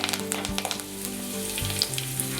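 Half a teaspoon of mustard seeds and two sprigs of curry leaves sizzle in hot coconut oil for a Kerala fish curry, a continuous crackle with sharp popping spits, close and without talk.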